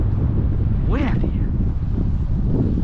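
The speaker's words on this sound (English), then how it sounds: "Windy." Strong wind buffets the microphone of someone walking outdoors along a street, a steady loud rumble throughout, with a brief bird-like or voice chirp near the middle.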